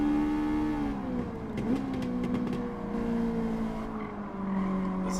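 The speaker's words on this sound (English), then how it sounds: "Listen to that exhaust." A race car's engine drones steadily in Gran Turismo 7, its pitch sliding as it revs and eases off, with a brief tire squeal in the middle.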